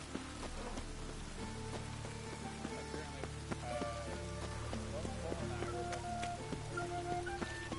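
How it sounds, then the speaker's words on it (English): Rain falls in a video game with a steady, fairly quiet patter and scattered drop ticks that continue throughout, layered with other faint game tones and sounds. "It's raining again."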